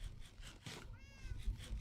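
A domestic cat meows once in a short rising call against a quiet room, with low background rumble and no talk.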